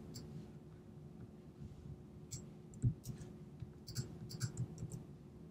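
Faint mouse clicks, a few scattered taps and a short cluster near the end, sound quietly against a low background hum while custom CSS is edited on a computer.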